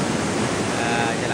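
Steady broadband wash of ocean surf at Kuta Beach, Bali, a continuous roar of breaking waves with some wind rumble, filling the whole short stretch at an even loudness.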